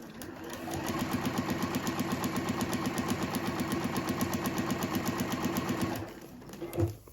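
A sewing machine stitches a straight line on a triangles-on-a-roll half square triangle project, set to stitch length 1.4 with an old needle. It runs as a steady, close rapid clatter for about six seconds, then stops with a brief thump.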